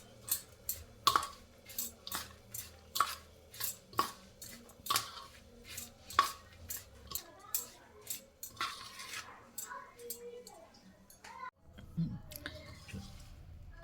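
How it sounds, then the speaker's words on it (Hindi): Sticky ladoo mixture of ashwagandha, shatavari, safed musli, dry fruits and jaggery being stirred with hot ghee in a pan, giving repeated close scraping and clinking strokes in a steady rhythm, with no talking. "घी डालकर सारे मिश्रण को अच्छी तरह मिला लिया है"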